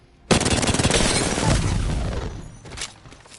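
Rapid full-auto burst from an R99 submachine gun in Apex Legends, a dense stream of close, loud shots for about two seconds, then tailing off with a brief extra crack near the end.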